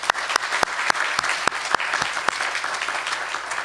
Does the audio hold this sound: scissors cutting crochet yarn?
no